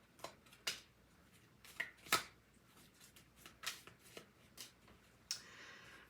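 Tarot and oracle cards being shuffled close by, with soft riffles and flicks in scattered bursts and a longer rustling shuffle near the end, fairly quiet overall.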